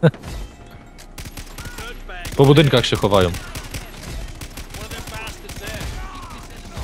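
Rapid bursts of Far Cry 3 co-op gunfire crackle under someone talking, with a louder volley of shots in the middle.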